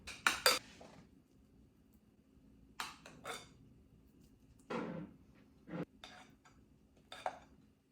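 Metal masher clanking against a bowl while potatoes are mashed, a few sharp clatters near the start followed by scattered thuds and scrapes, close up with no talking.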